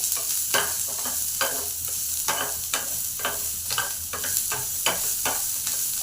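Onions and spices sizzle in a half spoon of hot oil for a fish curry while a spoon stirs them in a pan, steady close frying with regular scraping strokes about twice a second.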